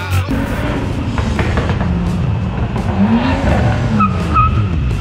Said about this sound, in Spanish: Y viene acelerando allá.